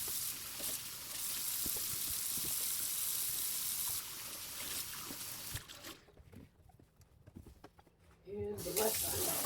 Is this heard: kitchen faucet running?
yes